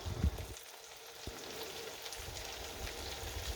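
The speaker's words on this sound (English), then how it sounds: "Fried apples, y'all. You gotta give them a stir" Apples frying in a pan with margarine and olive oil give a quiet, steady crackling sizzle, low and even with a few soft pops, no talking.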